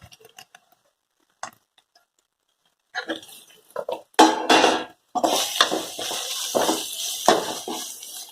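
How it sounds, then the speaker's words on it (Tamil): Carrots and onions are stirred in a pan, with a quiet start of light taps, then louder, irregular scraping and clatter of a utensil against metal, close by. "கேரட்டை போட்டு மிக்ஸ் பண்ணிக்கலாம் நல்லா."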